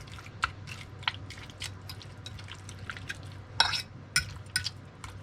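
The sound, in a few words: tossing shrimp in buttery cilantro garlic sauce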